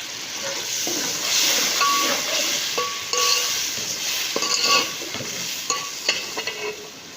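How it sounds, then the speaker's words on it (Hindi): Chopped tomatoes sizzle steadily in a pot of chicken pulao base, with a spoon scraping and stirring in irregular strokes and clinks, close and continuous with no talking. "अब इसके अंदर साथ में टमाटर हम डाल देंगे 2 काटे हुए।"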